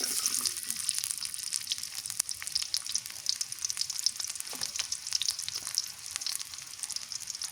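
Onions hit hot oil in a pan and crackle into a steady, close sizzle that fills the background, with a few stirring scrapes breaking through.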